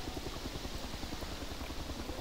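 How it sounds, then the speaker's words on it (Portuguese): A helicopter passes in the video game Arma 2 DayZ in Chernarus, a steady rapid rotor chop throbbing continuously at moderate distance with no voices over it. "Ah, eu tô vendo, tá na direita o helicóptero."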